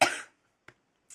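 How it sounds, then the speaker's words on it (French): A woman's coughing: one long harsh burst at the start, then a short cough and a final brief cough, close and alone with silence between. "C'est horrible comme je tousse en ce moment"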